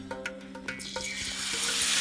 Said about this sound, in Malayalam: ഇനി മൈദമാവിൽ മുക്കി നല്ല ചൂടായ എണ്ണയിലേക്കിട്ട് പൊരിച്ചെടുക്കാം.